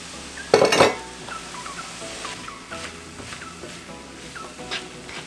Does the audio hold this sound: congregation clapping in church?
no